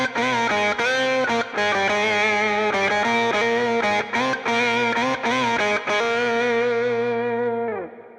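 Electric guitar tone blending several amps with the delay removed, playing a sustained, distorted melodic line with chorus-like shimmer, loud and close, with a few brief gaps between notes before fading out at the end.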